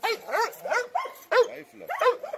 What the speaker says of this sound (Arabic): كلب بول تيرير كلب شرس جدا